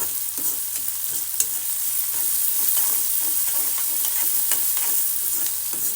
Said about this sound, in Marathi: थोडासा हलका कांदा फ्राय झालेला आहे